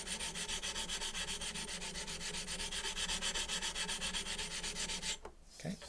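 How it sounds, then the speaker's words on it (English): Rhythmic scrubbing on a coarse Shapton Japanese whetstone as it is cleaned, fast even back-and-forth rubbing strokes close up, stopping abruptly near the end. "So I'm gonna clean the bottom half of the stone here."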